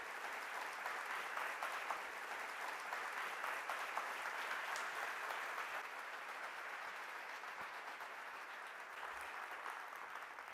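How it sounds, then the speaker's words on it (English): A lecture-hall audience at MIT claps steadily to welcome a physics lecturer, a dense and even wash of applause that holds at a moderate, slightly distant level for about ten seconds. "please welcome with a warm round of applause, Professor Walter Lewin."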